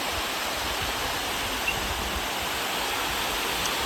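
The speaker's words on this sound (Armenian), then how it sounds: "Հասանք ջրվեժին։" Waterfall at Sona's spring in Khndzoresk, Syunik, a steady broadband rush of falling water that holds level throughout, close and fairly loud, with no voices.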